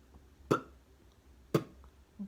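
Two short, punchy vocal bass-drum hits made with the letter B, about a second apart, are followed by a faint third, close and alone, imitating a drum set's kick drum.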